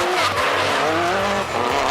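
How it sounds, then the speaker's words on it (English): Subaru WRX with a boxer four engine, an all-wheel-drive rally-style car, revving loudly and continuously up close, with a rough pulsing engine note and tire squeal throughout. "This car comes with a Boxer 4 that sounds like no other."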